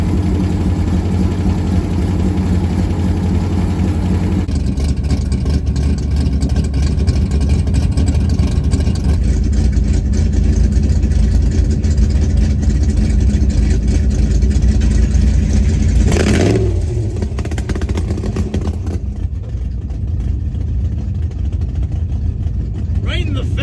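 A 1971 Dodge Demon warms up at a loud, steady idle with a heavy low rumble, and one brief blip in revs near the end.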